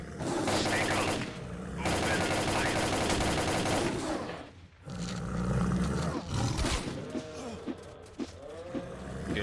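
Snork monsters roar and shriek amid bursts of automatic gunfire in the video game STALKER Call of Pripyat, loud and chaotic with sustained firing, a brief lull, then more growls and shots.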